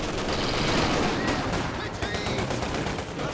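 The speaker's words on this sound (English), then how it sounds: "The Brits are actually shooting at me from this house" Sustained small-arms and machine-gun fire rattles from British troops holed up in a house in Company of Heroes 2, a dense, continuous battle din of overlapping shots at moderate distance.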